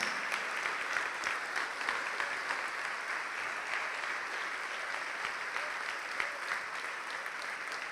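Church congregation applauding, a steady, even wash of many hands clapping at moderate distance, continuous throughout with no clear speech.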